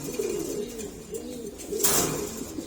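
Several pet pigeons coo in low, rolling, overlapping calls close by, with a brief burst of rustling partway through.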